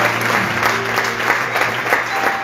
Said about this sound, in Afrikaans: Klap hande vir Jesus